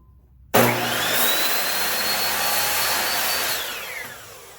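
A power saw blade spins up abruptly and cuts through wood with a loud, steady whining rasp that holds for about three seconds before tapering off as the cut finishes.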